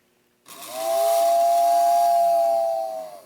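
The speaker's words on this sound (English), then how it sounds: "I can also use this control that I rigged up to blow the steam whistle" A loud, steady model train steam whistle sounds one long blast after a brief silence, with a hissing rush around the tone.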